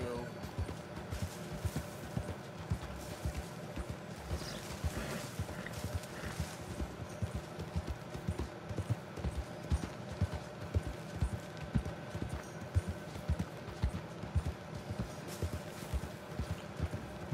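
Horse hooves clip-clopping in Red Dead Redemption 2, a steady rhythmic trot running throughout at moderate level, with a voice speaking intermittently over the game sounds.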